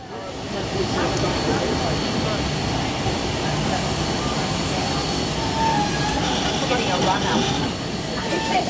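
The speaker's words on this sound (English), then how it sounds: "the two locomotives will now shunt on the Down Sydney line heading their way to Thirlmere" Two locomotives shunt along the Down Sydney line at Picton station in New South Wales, giving a loud, steady rumbling drone with faint metallic squeals, while a voice talks over it.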